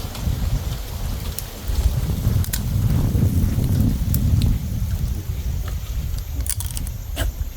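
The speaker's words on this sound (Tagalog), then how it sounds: "Mahangin." Wind gusts roar against the microphone in low, uneven rumbles on a cold day, with occasional faint clicks and splashes on top.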